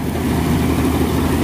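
A combine harvester engine runs steadily during a wheat harvest, a loud, dense, low droning rumble with no break.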